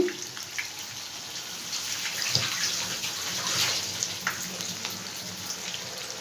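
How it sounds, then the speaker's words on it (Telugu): Large mirchi bajji, batter-coated chili fritters, frying in oil on medium heat, producing a quiet, even bubbling hiss that swells slightly midway, with no speech. "ఇప్పుడైతే కొంచెం మీడియంలో పెట్టి వేయించుకోండి."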